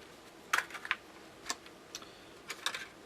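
Adhesive tape peeled off a clear Lexan HO-scale model car body in a few short, crisp ripping bursts with small ticks between, close and fairly quiet.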